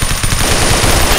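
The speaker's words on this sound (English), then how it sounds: "They're shooting." Rapid automatic gunfire in Blockade 3D, a steady dense burst of shots rattling continuously for the whole moment, loud and close with no pauses.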